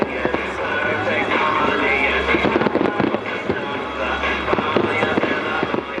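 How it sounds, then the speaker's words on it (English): Fireworks pop and crackle in quick irregular bursts from the Granville Bridge in Maryborough over a constant background roar, moderately loud and somewhat distant. "a spectacular fireworks display from the Granville Bridge"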